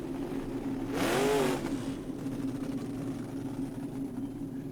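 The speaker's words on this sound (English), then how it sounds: "the colossal vehicle rocketed down the street" A huge vehicle roars down a street in a brief sound effect, its engine surging loudly for about a second before settling into a lower, continuous rumble that carries on to the end.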